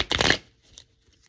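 Tarot cards being shuffled by hand, a short dense riffle burst lasting under half a second, close and fairly loud, followed by near silence with a few faint soft taps.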